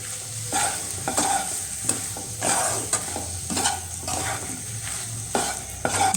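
Mushroom masala with added salt being sautéed in a pan, with steady sizzling broken by repeated scraping stirs of a spatula, close and even throughout.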